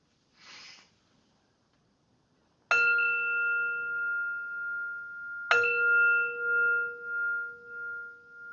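A meditation bell is struck twice, a few seconds apart, each strike ringing out with long, clear, sustained tones that slowly fade; a brief soft breathy noise comes before the first strike.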